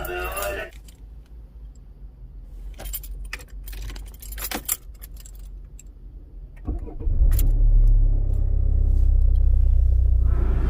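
Car keys jangle in short bright bursts near the mic during the first seconds, then a car engine starts and settles into a loud, steady low rumble that fills the rest.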